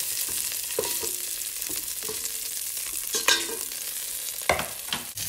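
Beef browning in a hot pan for beef in ale, with a steady loud sizzle and fry throughout, broken by a few sharp scraping stirs and clatters of a utensil against the pan.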